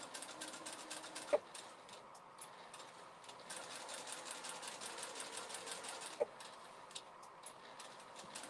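A sewing machine runs steadily, stitching in a fast continuous whir for several seconds, with a couple of brief sharp clicks and no talk over it.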